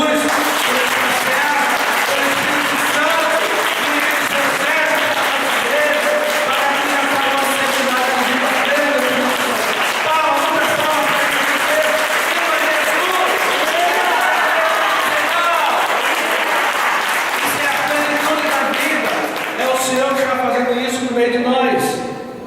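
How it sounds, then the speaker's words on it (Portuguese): Congregation applauding at a church gathering before prayer, a loud, sustained wash of clapping that runs steadily throughout, with voices and singing-like tones mixed in underneath. "Então, antes da oração, palmas para Jesus."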